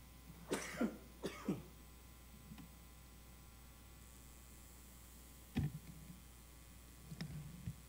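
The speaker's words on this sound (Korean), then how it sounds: "감기기가 있는지 기침이 나오네." A preacher coughs during a Sunday sermon in a church: two harsh coughs close together, then a few sparser coughs and throat clearings, quiet against a low mains hum.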